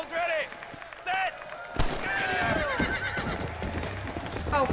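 A horse in Red Dead Redemption whinnies and then gallops with rapid hoofbeats in a race, game sound effects loud and near, a voice talking over it.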